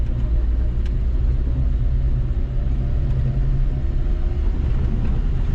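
A 1979 Chevy LUV pickup pulls away in first gear, its engine a steady low rumble that stays loud and close throughout, with no voices over it.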